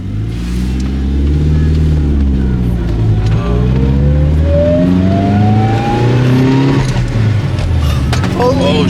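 A Mitsubishi Evo with its stock exhaust revs loudly and close by, the engine note climbing and falling in a steady roar, with a brief exclamation from a voice.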